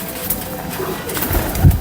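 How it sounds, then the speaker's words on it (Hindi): Fancy pigeons coo close by, a soft low call swelling near the end of a brief stretch, with no talking. "बड़े शानदार दिल से लगाए हुए कबूतर"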